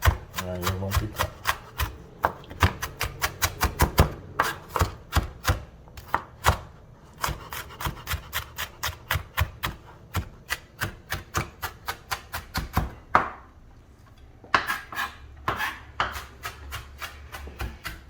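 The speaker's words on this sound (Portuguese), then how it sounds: "vamos misturar a cebola branca com cebola roxa. Aqui vem, aí vamos picar." A knife chops white and red onion on a board, fast rhythmic bursts of crisp taps, then slower spaced strikes and a brief pause before another rapid run, close and clear with no talking.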